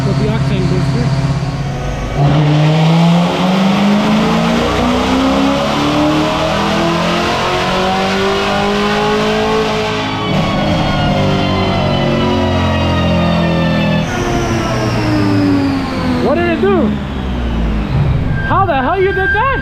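A tuned 900 hp Corvette C7 ZR1 on octane booster pulls at full throttle, its loud, close engine rising steadily through the gears with short breaks at each shift, while people talk over it.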